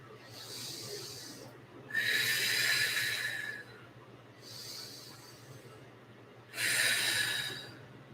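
Four slow, deep breaths are taken during a yoga pose for back pain, alternating inhales and exhales, each a soft airy rush lasting over a second, close to the microphone in a quiet room.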